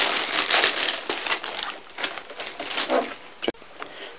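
An NES console is pulled out of its plastic bag, close crinkling and rustling of plastic in uneven bursts, with a sharp click near the end.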